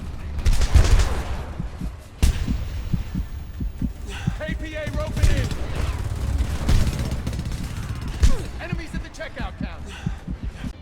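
Gunfire and bullet impacts in the video game Homefront: sharp shots and thuds crack close by amid a busy low rumble of battle, with whooshing and warbling effects layered between bursts.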